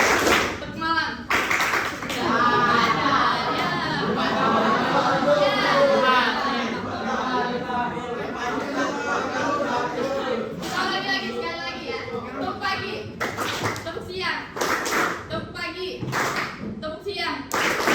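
Children playing a clapping game clap in rhythm while a group voice chants along, the claps growing sharper and more frequent toward the end.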